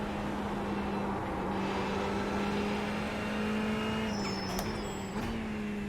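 A Ferrari GT3 race car engine drones steadily on a lap of Fuji in a racing game, a loud sustained in-car hum with slight pitch shifts from throttle changes.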